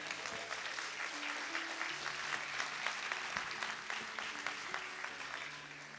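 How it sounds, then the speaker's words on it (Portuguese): A church congregation applauds during a sermon, continuous moderate clapping spread across the room with faint voices and some tonal sound underneath. "Você pode aplaudir Jesus."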